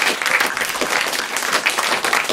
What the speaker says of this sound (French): On vous applaudit, Monsieur Bini, merci.